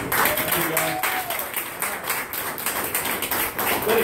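Audience clapping at a 2015 Iberia Parish council campaign event, dense steady applause from a nearby crowd filling the moment, with a few voices murmuring beneath it.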